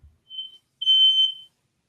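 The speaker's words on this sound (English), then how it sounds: "Fire alarm was going off," Two sharp electronic fire alarm beeps, a short one followed by a longer, louder one, piercing and high-pitched with nothing else around them.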